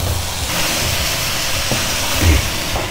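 Boiled rice tipped into a hot pan for fried rice brings up a steady, loud hiss of sizzling that runs unbroken throughout, close up with no voices.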